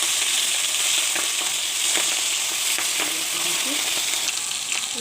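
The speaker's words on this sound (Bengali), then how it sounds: "এই যে তেল গরম করে নিয়েছি, এখন আমি মাছ দিয়ে দেবো" Pabda fish fry in hot oil in a home kitchen, giving a steady, close sizzle broken by occasional sharp pops and spatters throughout.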